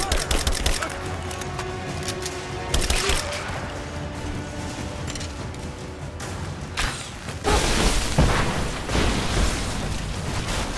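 A grenade blast in the action game Rise of the Tomb Raider, a loud broadband burst late in the clip amid dense, continuous game combat noise and music, with booming rumble trailing after.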